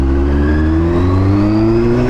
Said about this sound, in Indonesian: kok knalpot standar bunyinya berisik gini?